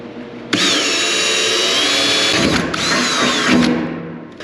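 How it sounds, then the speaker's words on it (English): A power drill whines loudly, spinning up and boring through a cardboard template, briefly easing off before revving again, close by, while building a brake and clutch pedal assembly for a 1930 Dodge pickup. "drill a hole."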